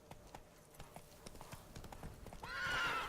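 Roach, a horse in The Witcher 3, gallops with rapid rhythmic clip-clop hoofbeats, then lets out a loud whinny at the end, with faint talk beneath.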